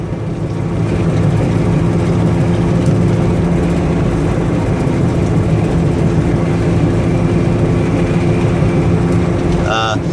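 A 1999 Dodge Caravan wheelchair-accessible van accelerating hard at highway speed, its engine droning steadily and loudly with broadband road and wind noise throughout, near and constant.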